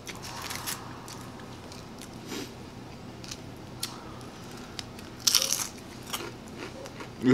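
A Taco Bell taco in a mukbang meal gives one sharp, close crunchy bite, with softer chewing and mouth sounds before and after it in a quiet room.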